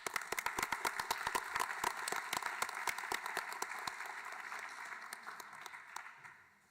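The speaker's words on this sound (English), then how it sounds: "So a round of applause to all of you." Audience at an evening neuroscience event claps steadily, a dense burst of many hands that holds for several seconds before tapering off near the end, with no voices over it.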